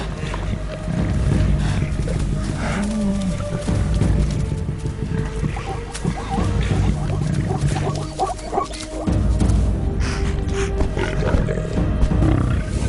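Lions attack a giraffe among trees in the African wild, with deep growls and roars over heavy rumbling, scuffling and thudding hooves, loud and continuous throughout.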